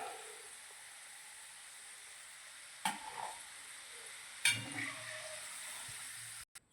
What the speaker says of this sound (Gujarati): હવે આપણે ફુલાવર તળી લઈશું